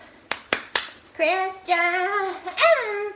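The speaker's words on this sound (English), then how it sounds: "Christian claps." Three sharp hand claps in quick succession, close and loud, followed by a voice speaking or singing.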